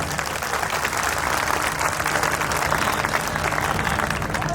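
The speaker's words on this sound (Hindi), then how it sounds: "आप मुझे तालियां बजाकर आश्वस्त दीजिए" An audience at a Hindi poetry recital, a Kavi Sammelan, breaks into dense, sustained applause, steady clapping from many hands filling the hall for several seconds.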